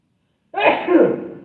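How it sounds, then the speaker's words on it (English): A single sneeze bursts out after a moment of quiet, close and fairly loud, with a breathy tail. "if you're not burping, you're sneezing."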